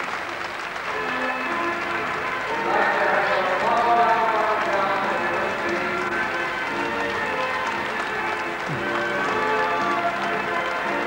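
Crowd in the Anglesey stand at a show jumping arena applauding and cheering the winning horse Kilcoltrim, a steady sustained wash of clapping under continuous commentary.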